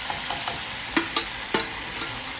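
Paneer cubes frying in a hot pan, giving a steady sizzle with a few sharp spattering pops throughout, close and alone.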